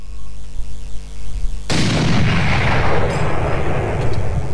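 Heavy gunfire in a Minecraft mod game: a low rumbling background gives way to a sudden loud, blasting burst that roars on continuously, with a few sharper cracks near the end.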